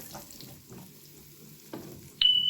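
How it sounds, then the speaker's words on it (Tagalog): Onion sautéing in oil in a frying pan, soft sizzling with a few stirring scrapes and a brief clink near the end, no talking. "At sa parehong kawali, igisa natin ang sibuyas hanggang sa lumambot."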